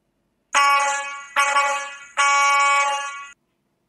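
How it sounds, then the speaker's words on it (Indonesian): A car horn sounds three times in short succession, loud and close, as a driver honks to ask a vehicle stopped in the road with its trunk open to let them pass. "membunyikan klakson, meminta jalan dahulu."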